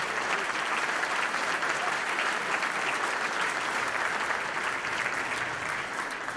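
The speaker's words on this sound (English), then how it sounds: "he deserves a round of applause for that" Steady, dense applause from a crowd at a breakfast event, sustained and fairly loud throughout with no break.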